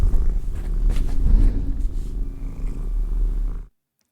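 A cat purrs in a steady, low, continuous rumble, close and fairly loud, before cutting off abruptly to silence. No one is talking.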